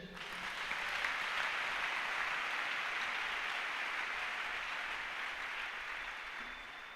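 A church congregation applauding the Lord during a French-language sermon, a broad wash of clapping that swells quickly and holds steady for several seconds before tapering slightly.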